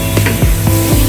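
Ground turmeric, cumin and coriander sizzle in a hot pan as a spoon stirs them in repeated scraping strokes, loud and close with a steady frying hiss underneath.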